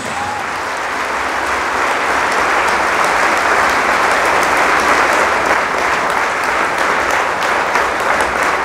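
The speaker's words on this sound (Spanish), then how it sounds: "Fuertes aplausos a Jesús." A church congregation applauds steadily and loudly during a Spanish-language Catholic service, a dense, even wash of many hands clapping that holds for the whole stretch without talk.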